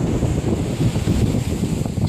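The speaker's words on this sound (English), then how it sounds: "Do you like the sound of the waves, Bryson?" Ocean waves at a beach, a steady broadband rushing wash with heavy wind buffeting the microphone, continuous and fairly loud with no speech.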